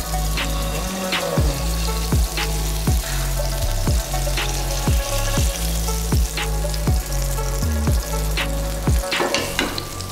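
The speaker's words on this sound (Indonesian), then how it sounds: "Ini margarin ya, kita masukkan margarinnya." Margarine sizzles steadily in a teflon pan, a loud continuous fry with regular clicking, scraping stirs throughout, and no voices.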